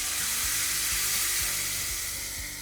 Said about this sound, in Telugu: ఇప్పుడు ఇందులో పాలు వేసేస్తున్నా